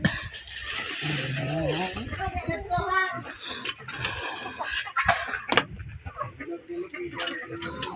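A chicken clucks in short bursts amid busy outdoor noise, with people talking nearby and other sounds mixed in.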